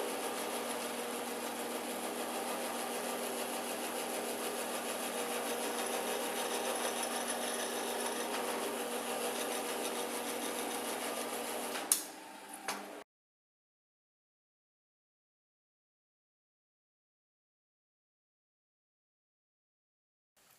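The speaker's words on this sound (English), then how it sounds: "Now, the natural cone shape that the counterboard did here will help guide this 1/8 inch bit, so I don't need to go and center punch these holes." A drill press with a 1/8 inch bit drills holes in a workshop, giving a steady, moderately loud whirring grind that runs about thirteen seconds, then stops abruptly into silence.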